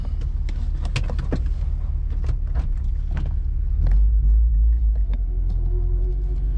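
Inside a Honda Civic Si track build on a test drive with new soft-set coilovers, a steady low road rumble runs throughout, with scattered clicks and knocks from the cabin and a deeper engine surge near the end.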